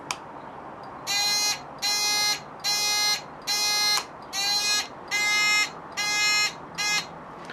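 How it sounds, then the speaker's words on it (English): A bright electronic buzzer from a Honda MT50 motorcycle's 6-volt indicator sounds in eight regular pulses, each about half a second long, repeating at a steady rhythm over a quiet background. "you heard the indicator's got a nice little buzzer on it."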